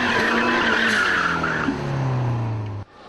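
A Toyota Celica with an open differential does a burnout, its tires squealing loudly under wheel spin while the engine note slowly falls, then cuts off abruptly.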